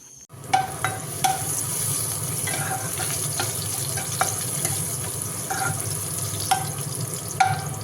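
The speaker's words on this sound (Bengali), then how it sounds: "এখানে প্রথমে কুদরিটা ভেজে নিচ্ছি" Steady crackling sizzle of ivy gourd frying in hot oil, with occasional sharp clinks of a utensil against the pan, close and fairly loud.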